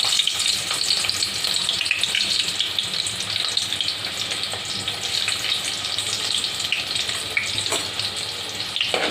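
Half an onion sizzles steadily in two large spoonfuls of hot oil for a tempering, with a dense, continuous crackle and hiss close by and no talking.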